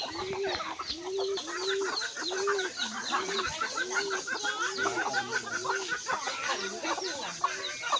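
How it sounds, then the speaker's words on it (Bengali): Backyard hens and a rooster keep up a steady run of rhythmic, repeated clucks while feeding on insects, with lighter chirps and chatter from other birds around them, close by and continuous. "আমরা চলে আসছি আমাদের মুরগিদের কাছে তো বিকেল পোকা দিচ্ছি"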